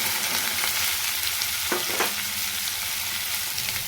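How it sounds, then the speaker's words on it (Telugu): Thinly sliced bitter gourd fries in hot oil after a tempering of spices, a loud, continuous crackling sizzle that stays close and steady throughout, with a couple of faint soft knocks partway through and no voices. "నూనె వేడయ్యాక పోపు దినుసులు వేసుకొని చిటిపటలాడాక కాకరకాయ, సన్నగా తరిగిన కాకరకాయ ముక్కలు వేసుకోండి."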